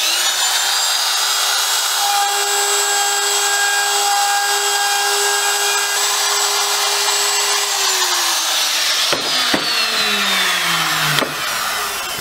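Router with a 60 degree bit carving a letter U into a wooden sign, a loud continuous high-pitched whine with steady tones that bend and drop near the end as the cut finishes.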